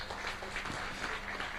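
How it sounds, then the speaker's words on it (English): Audience applause fills a hall at the Smart Annual Summit 2022, a soft, steady wash of many hands clapping at a distance, continuous and fairly quiet throughout, with no one talking. "please, another round of applause"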